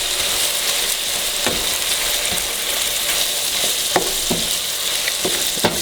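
Diced tomatoes get stirred into a sizzling pot of jambalaya: a steady, bright frying hiss runs throughout, broken by several sharp scrapes and clicks of a spoon against the pan.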